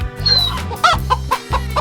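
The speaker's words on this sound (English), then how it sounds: "Chicken." Chicken clucking from a 3D animal slide game, a few short, loud clucks over a steady, repetitive game tune.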